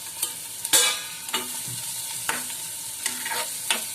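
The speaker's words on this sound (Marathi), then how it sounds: "आता आपण हे चांगलं परतून घेऊया आणि कांदा आपला चांगला लाल करूया।" Onion fries in oil in a pan for a Malvani-style fenugreek leaf dish, with a steady low sizzle broken by several scraping stirs, near and moderately loud, no speech.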